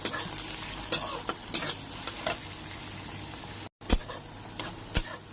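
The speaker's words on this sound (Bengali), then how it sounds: "তেলটা গরম হয়ে গেছে, দিয়ে দেবো কেটে রাখা পেঁয়াজগুলো।" Chopped onions and green chillies fry in hot oil with a constant sizzle. Sharp stirring strokes hit the pan at an uneven rhythm, and there is one brief silent gap.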